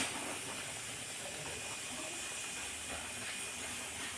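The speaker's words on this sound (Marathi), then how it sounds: "बटाटे भजी तळायचं चालू आहे." Potato bhaji frying in a pan of hot oil at a street food stall, a steady close hiss and crackle that runs evenly throughout with no talk.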